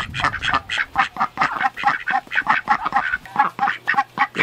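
A flock of farm ducks quacks continuously and loudly, a dense, rhythmic chorus of overlapping quacks close by with no pauses.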